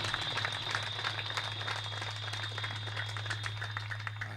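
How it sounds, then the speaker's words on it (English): Crowd applause for a veteran at a high school baseball game, Nottingham Northstars vs Steinert Spartans, a steady wash of clapping at moderate distance over a low electrical hum, sustained without a break. "Let's give a round of applause to veteran William James."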